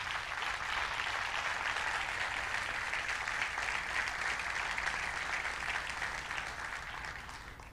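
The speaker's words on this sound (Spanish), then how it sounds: "Denle un fuerte aplauso." A church congregation claps in a steady, dense wash of applause that holds throughout before easing off slightly at the end, with no voices over it.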